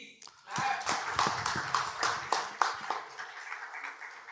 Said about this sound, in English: Guys, please clap.